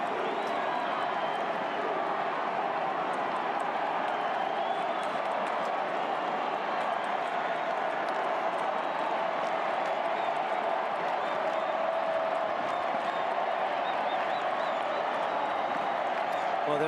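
A stadium crowd roaring and cheering continuously at an AFL preliminary final, Hawthorn versus Fremantle, a dense sustained wash of voices and applause from a large crowd without a break.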